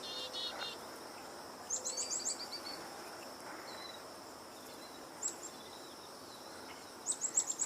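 Wild bird calling somewhere in open country: several short bursts of high chirps at scattered moments, faint and a fair way off, set against a steady hiss of outdoor ambience with a possible insect drone.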